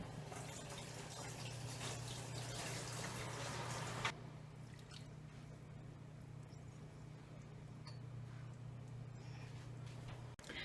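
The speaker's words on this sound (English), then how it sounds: "I'm adding more water." Hot water pours into a canning pot holding jars of tomatoes, a rushing fill for about four seconds that cuts off abruptly, followed by quieter trickles and drips over a low steady hum.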